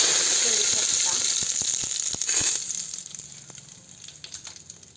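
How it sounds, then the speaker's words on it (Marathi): Cumin seeds crackle and sizzle sharply in hot oil, with quick irregular pops that gradually settle into a softer fry. "जिरी चांगली तडतडली"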